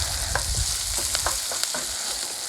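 Spring onion, garlic and ginger toast in a hot pan, giving a steady close sizzle and frying hiss with a few soft clicks as the aromatics are moved around.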